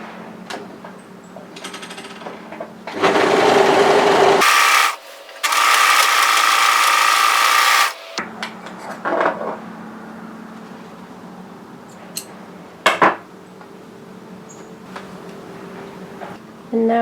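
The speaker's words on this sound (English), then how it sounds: "Now we're going to go and overlock or serge tidy that." An overlocker (serger) finishing the edge of a fabric seam on a slip nightgown runs in two loud steady buzzing bursts of a few seconds each, set between quieter handling noises and light clicks.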